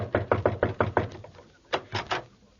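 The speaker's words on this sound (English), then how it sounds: "All right, there's a dressing room over there. I'll knock on the door." Knuckles rapping on a dressing room door, a quick series of six firm knocks followed by a pause and three more, close and sharp in a quiet space.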